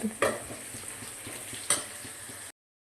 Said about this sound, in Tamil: வெங்காயம் வந்து நல்லா வதங்கிடுச்சு இஞ்சி பேஸ்ட்டை போடுறேன்